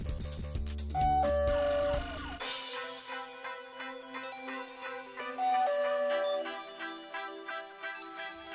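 A bright electronic doorbell chime from a DIGOO smart home alarm plays a short descending ding-dong, then repeats a few seconds later over a soft, ringing melodic tone.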